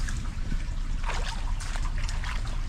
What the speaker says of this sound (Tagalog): ayun umulan na mga idol umuulan na